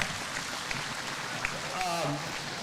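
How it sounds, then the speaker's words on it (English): An audience gives a faint, distant round of applause at a 50th-anniversary event, a soft, even patter with no talk over it. "let's give him a round of applause for that young effort"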